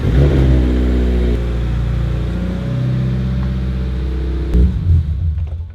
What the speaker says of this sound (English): let's move this car forward a little bit